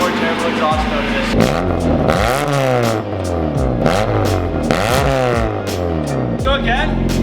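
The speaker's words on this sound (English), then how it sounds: "Everybody get one more terrible exhaust note of this." A Honda Civic EK engine revs repeatedly with a rough, harsh exhaust note, loud and close, its pitch sweeping up and falling back in several bursts while people talk over it.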